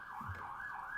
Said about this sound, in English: if I could just hold on 1 minute while the sirens pass